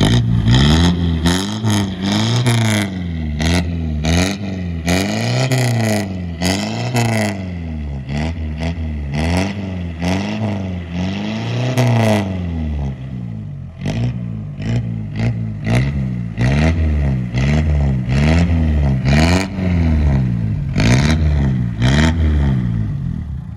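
A modified Mitsubishi L300 pickup's engine is revved repeatedly while stationary, with a series of loud, close, rising and falling surges and bursts of throttle. Short choppy blips follow over about twenty seconds.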